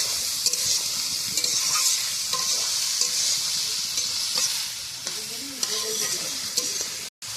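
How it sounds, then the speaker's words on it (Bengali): Carrots and ginger fry in a pan and are stirred, broadband sizzling running steadily with scraping strokes and small clatters, close and fairly loud, then a brief gap near the end. "গাজরটা একটু নাড়াচাড়া দিয়ে আদা সিদ্ধ করে নেব।"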